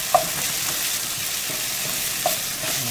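Minced garlic from a jar sizzles steadily in a pot of lentils while a spoon stirs it, with a couple of sharp clicks of the utensil against the pot over the constant frying hiss.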